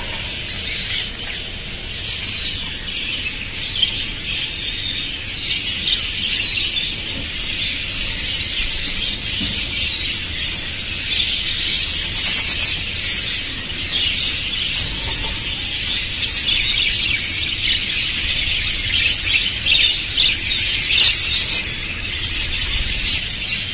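Many caged white finches chirp and tweet busily at once, a dense, continuous high-pitched chatter that stays fairly loud throughout, with no one talking.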